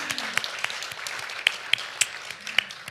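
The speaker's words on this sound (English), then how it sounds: "I see folks clapping." Scattered clapping from a few people at a recovery month kickoff luncheon, with sharp isolated claps over a low murmur of voices.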